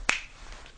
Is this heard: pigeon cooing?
no